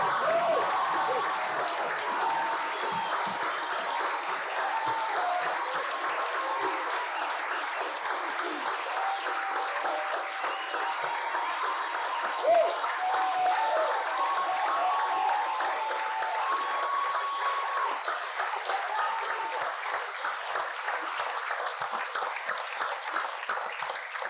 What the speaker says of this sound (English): Please stand and give them a rousing round of applause.